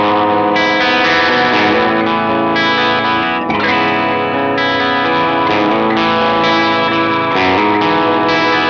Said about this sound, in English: Unbelievable guitar, representing an unbelievable guitarist with a very unlikely yet amazing sound